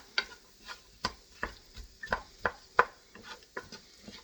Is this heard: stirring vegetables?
yes